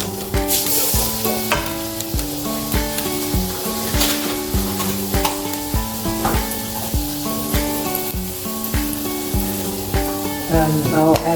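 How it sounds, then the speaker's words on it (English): Garlic sizzles loudly in olive oil in a frying pan, with a spoon stirring and scraping in a steady rhythm over the constant hiss, close up with no talk. "I've put some olive oil into the pan, and I will add some garlic."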